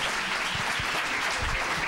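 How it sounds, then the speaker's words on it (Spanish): Audience at a healthcare innovation session applauding volunteers, a dense, steady burst of clapping from a room full of people, fairly loud and continuous with no voices over it. "Un aplauso."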